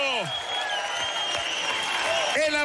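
Audience applause for a singer at the Teletón 2018 in Chile, a dense steady clapping wash filling the whole stretch, with a voice shouting over it near the start and end.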